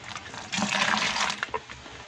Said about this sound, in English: wash or rinse our blender